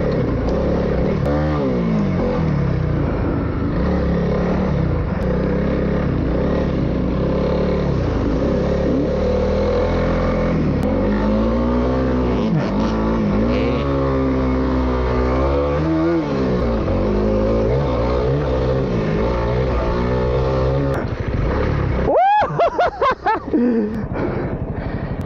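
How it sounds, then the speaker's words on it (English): A Honda CRF300L dirt bike ridden at an off-road park, its engine droning steadily and rising and falling in pitch as the rider works the throttle, loud and continuous, with a brief clattering burst near the end. "Shots of Matt here riding. He's still getting used to this thing"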